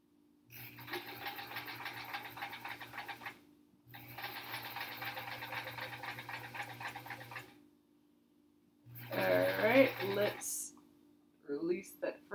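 A home sewing machine stitches a quilt block seam in two long steady runs of rapid mechanical whirring and clatter, followed by a brief burst of handling noise, close and fairly loud.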